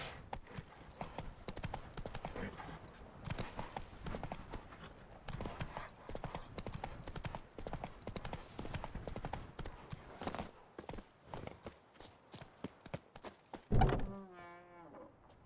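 Hooves of the horse Roach clip-clop steadily in The Witcher 3, a brisk close rhythm over quiet game ambience. A short burst of voice and sound effects follows near the end, along with a whinny-like sound.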